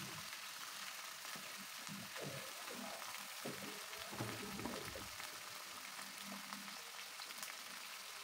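Steady, loud sizzling and crackling of cut chicken pieces frying in a hot pan, with occasional stirring scrapes and no talking.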